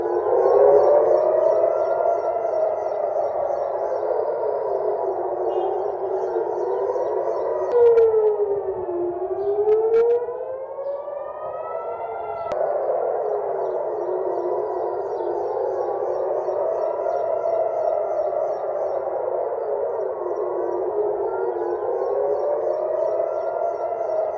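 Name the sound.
air raid siren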